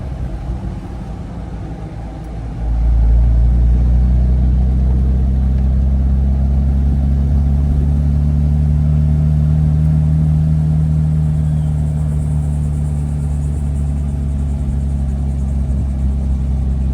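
A 1957 Lancia Aurelia B24S Cabriolet driving, its engine settling into a loud, steady low rumble that swells after a quieter start and holds evenly.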